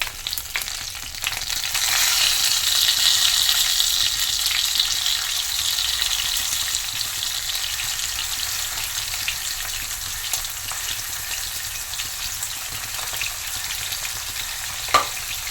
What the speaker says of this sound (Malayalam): എണ്ണ ചൂടായിട്ടുണ്ട് നമുക്ക് ഇത്തിരി കറിവേപ്പില ഇട്ട് കൊടുക്കാം